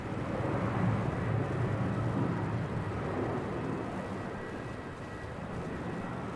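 A Velocity airliner pushes back and taxis at Melbourne Airport, giving a steady, loud broadband jet-engine rumble that holds without breaks, with no talking.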